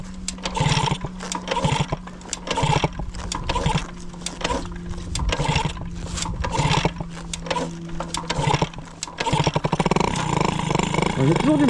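A hot 103 moped fitted with a flat Athena reed valve is started with repeated, uneven kicking and sputtering. The engine then catches and revs loudly close by, with a voice in between.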